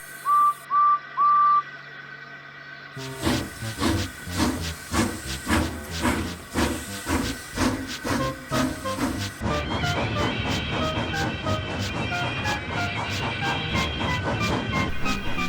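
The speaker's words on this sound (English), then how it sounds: "Edward found it hard to start the heavy train." In the Trainz video game, a steam locomotive whistles in short toots, then heavy chuffs begin slowly and quicken as it strains to start a heavy train, with hissing steam throughout.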